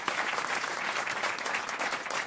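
A studio audience at a French radio comedy quiz show applauds steadily, a dense, even wash of many hands clapping at moderate distance without pause.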